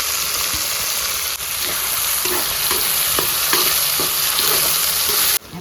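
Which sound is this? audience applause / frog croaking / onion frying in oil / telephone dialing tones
onion frying in oil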